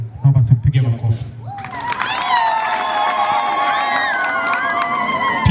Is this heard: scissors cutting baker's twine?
no